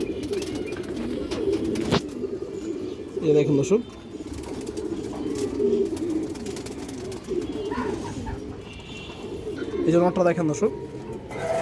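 Pet pigeons coo softly and repeatedly at close range while someone talks over them almost the whole time, with a couple of louder rustling bursts.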